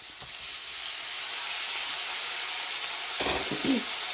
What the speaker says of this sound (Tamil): இதோட மஞ்சள் தூள் இந்த வெங்காயம் வதங்கிக்கே